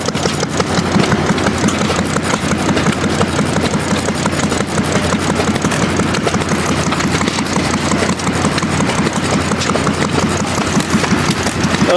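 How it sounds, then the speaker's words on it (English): A 1918 2.5 horsepower Economy stationary engine runs after being bump started at an engine show, a steady, fast rhythmic chuffing and clatter heard up close and loud throughout. "Wow, that's a nice little engine when you can bump start it."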